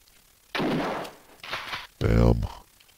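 Gunshots in the PC game Alone in the Dark: a few loud blasts with tails, including a booming low-heavy shot near the end, mixed with spoken commentary.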